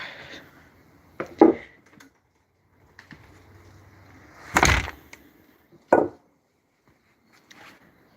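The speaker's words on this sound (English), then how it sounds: "let me just close the door" A door swings and shuts with a few separate thumps and knocks, with quiet pauses between the impacts.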